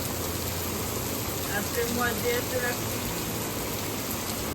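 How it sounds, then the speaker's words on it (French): Steady rain falling outdoors on a bike trip through Germany toward Lübeck, a dense, even hiss with a low rumble underneath, continuous and close for the whole stretch with no clear voices. "Et après, il a commencé à pleuvoir comme ça."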